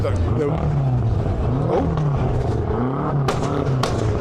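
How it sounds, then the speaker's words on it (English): A BMW M5 with a V10 engine revs at a car event, its rising and falling engine tones pulsing close under continuous nearby conversation, with a couple of sharp clicks near the end. "that M5's smoking while it's revving"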